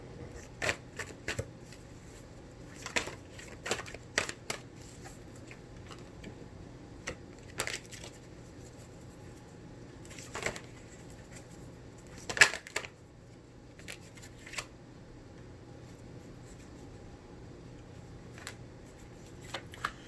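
Tarot cards shuffled and drawn for a pick-a-card reading, heard as scattered, close snaps and flicks of cards over a quiet background, with irregular gaps and no voices.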